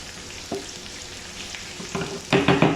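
Hot tadka tempering hits a pot of dhaba-style moong dal with a sharp burst of sizzling, starting with a brief crackle and then swelling into loud, bubbling frying that carries to the end.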